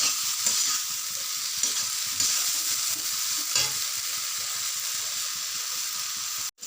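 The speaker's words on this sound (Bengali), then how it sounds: "সেগুলো দিয়ে আমি এখন এগুলোকে ভালো করে নাড়বো। এখন ভালো করে কষাতে হবে মশলাটা।" Spice masala with soybean curry stirred and fried in a pan, a continuous close sizzle broken by rhythmic scraping strokes of a spoon.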